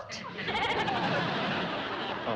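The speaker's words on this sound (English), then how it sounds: "A goat?" A goat on a porch bleats in a loud, wavering, drawn-out cry lasting about two seconds, close by and filling the moment alone.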